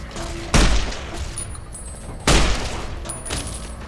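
Two heavy gunshots boom in Fallout: New Vegas, each a loud sharp blast with a rumbling tail, about two seconds apart, with fainter game ambience and smaller reports between them.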